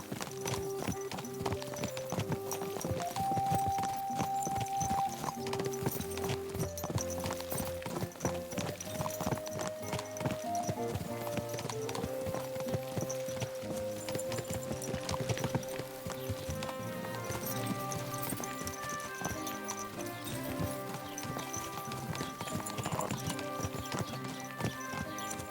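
Horse hooves clip-clopping steadily in the medieval game Kingdom Come: Deliverance 2, a continuous even trot throughout under a prominent musical score, with no one speaking.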